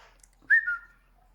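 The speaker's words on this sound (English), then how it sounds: "This bird's got some amazing whistles." A pet macaw whistles once, a short clear rising note that holds and fades, sounding close in a quiet indoor room with faint background hiss.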